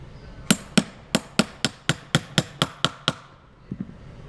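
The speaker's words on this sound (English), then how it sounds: "Hammer your shaft in to where it is flush with your bearing." A hammer drives a motor shaft into its bearing during a GEP motor refurbishment, about eleven sharp, evenly spaced metallic strikes up close, followed by two lighter taps after a short pause.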